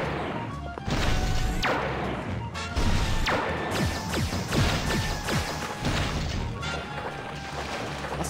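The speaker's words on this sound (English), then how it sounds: "I need to destroy these cholesterol barriers to proceed." Cholesterol barriers are smashed inside Peter's body in the Family Guy PS2 video game, with repeated loud crashing impacts and booms coming one after another against a dense game soundtrack.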